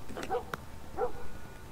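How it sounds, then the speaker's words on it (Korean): A dog barking in the video game The Last of Us Remastered, two short separate yips or barks, fairly distant and faint under low background noise. "개가 짖고 있군."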